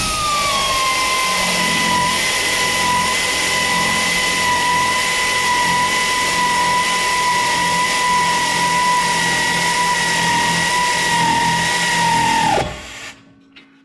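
A power tool tightens a bolt on the rear shock of a 2017 Ford Escape, giving a loud, steady whine that holds for about twelve seconds before cutting off abruptly into near silence.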